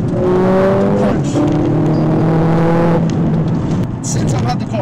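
A Mercedes-AMG CLA45 S with a 2-liter engine accelerating hard, its loud close engine note climbing through rising revs with a brief break for a gear change before pulling up again.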